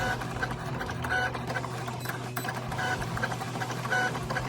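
Cricut cutting machine slicing track shapes from 2mm thick cardstock, a steady mechanical whir with faint repeating motor tones and small clicks running continuously and close.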